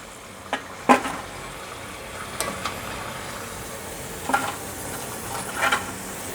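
Food crackles and sizzles steadily in hot oil during a second deep-fry, a continuous bubbling hiss broken by a few sharper pops.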